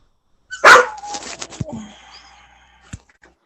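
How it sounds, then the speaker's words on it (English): A puppy gives a sharp, loud bark followed by a few shorter yelps and whimpers, then a final faint yip, all fairly close with quiet between. "And the puppy sounds so sad."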